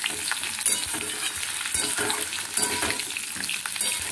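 Cauliflower frying red in a pan, stirred repeatedly with a spatula, gives a close, dense sizzle broken by frequent scraping and clattering strokes, with no voices.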